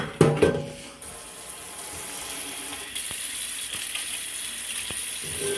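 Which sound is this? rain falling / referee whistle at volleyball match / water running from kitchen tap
water running from kitchen tap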